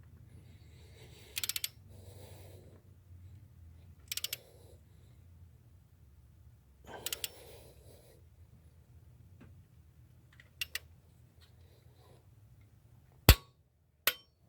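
A torque wrench tightens cylinder head bolts on a 2014 Jeep Patriot 2.4 L engine, producing sharp metallic clicks and ratcheting bursts spaced every few seconds, with two crisp final clicks near the end over a quiet background.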